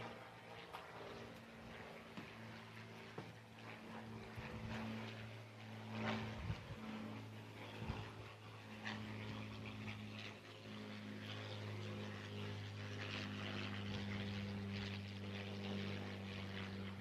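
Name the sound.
Supermarine Spitfire Mark 9 propeller aircraft flying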